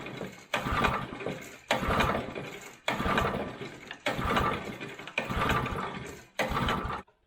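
Old abandoned go-kart small engine sputtering and revving in bursts, loud and close, with several surging runs broken by brief drops as the throttle is worked.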